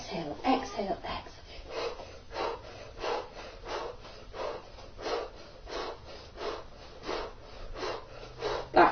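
Quick, sharp exhaling breaths from a Pilates class, repeated in an even pulse about every half second, fairly faint and slightly muffled.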